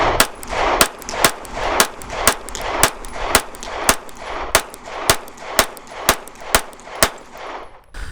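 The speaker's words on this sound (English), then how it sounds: "So we're gonna do another 15 rounds right now with the optics plate configuration." A Sig P365 XL pistol fitted with an optics plate fires about fifteen sharp, loud shots at a fast, even pace, each crack ringing briefly before the next, with no talking.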